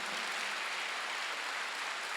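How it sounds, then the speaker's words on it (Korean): Church congregation at a Korean Sunday worship service giving a brief burst of steady, dense applause, moderately loud and even, with no speech over it. "시험 박수로 하나 둘 셋."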